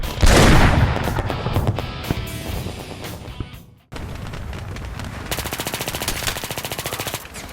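Rapid automatic gunfire from the Battlefield 3 video game, loud and dense bursts with booming impacts, a brief drop to quiet near the middle, then sustained rattling fire that continues to the end.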